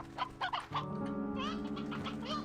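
Roosters in the video game Slime Rancher 2 cluck in short, bright bursts, several birds overlapping over a steady tonal game background.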